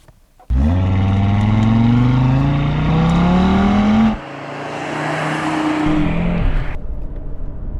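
A Cupra Formentor VZ5 engine pulls hard under acceleration, loud and close, its rising drone climbing through a gear, dipping at a shift, then building again before easing off.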